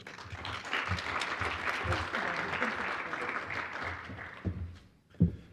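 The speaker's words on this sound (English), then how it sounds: "Please, a warm round of applause to welcome Chris to the stage" An audience applauds to welcome a speaker onto the stage at a climate policy talk, a steady wash of clapping that fades after about four seconds, followed by a couple of isolated thumps.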